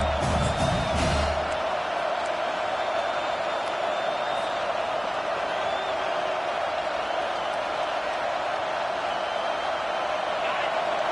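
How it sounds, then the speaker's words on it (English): Stadium crowd in the Madden football video game on a third-down defensive stand, a steady roaring wash of cheering that holds loud and even throughout, with a brief burst of louder noise near the start. "Decibels rising as the crowd gets behind this defense on third down."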